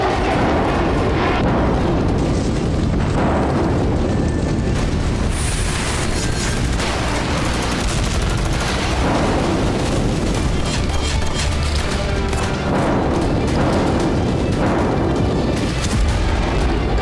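Bombs dropped from the air on Houthi sites in Yemen, a continuous heavy rumble with repeated deep booming bursts rolling one after another, loud and close throughout.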